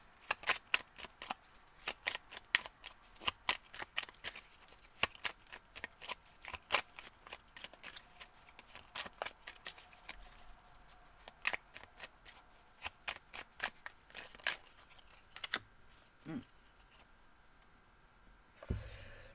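Tarot oracle cards are shuffled and drawn in a fast run of soft, crisp riffles and clicks. The sound is close but quiet, continues throughout and thins out near the end.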